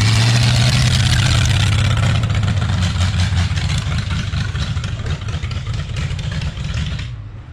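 A Pontiac Firebird V8 idles roughly, starting with a heavy low rumble that turns uneven and sputtering, loud and close, then cuts off abruptly near the end.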